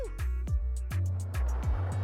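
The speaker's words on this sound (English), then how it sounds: "Just casually getting on a 1960s Pommer lift powered by a tractor engine." A 1960s Poma drag ski lift driven by a tractor engine clatters on, with a steady engine drone and regular rhythmic knocks roughly every quarter second, fairly close.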